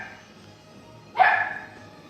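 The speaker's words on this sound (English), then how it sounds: "I'm sorry if you guys heard my dog barking." A dog barks once at a cat indoors, a single loud, fairly close bark over a quiet room hum.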